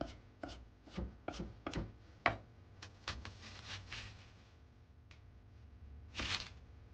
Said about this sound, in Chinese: 洋葱改刀切成稍微宽点的条就可以